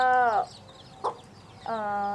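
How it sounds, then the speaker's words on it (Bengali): Native chickens give a few short, close calls: a drawn-out harmonic cluck, a quick higher chirp, then another cluck, separated by quiet pauses. "এই যে আমার দেশি মুরগির বাচ্চাগুলো"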